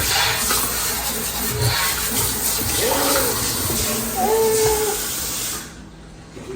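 Water running steadily from a kitchen faucet in an empty New York City apartment, a broad hissing stream that continues and then drops off near the end, with faint background sounds.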